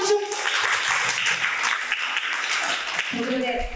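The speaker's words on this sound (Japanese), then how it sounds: "会場の、皆さんにも大きな拍手を。" A crowd at a live music festival in Kitakami, Iwate, breaks into loud, steady applause that fills the space, with a voice speaking briefly at the start and again as the clapping fades.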